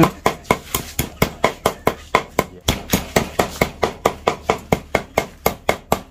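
A cleaver mincing food on a chopping board for mung bean and dove porridge, with a steady, rhythmic run of loud, sharp chops close up and no talking.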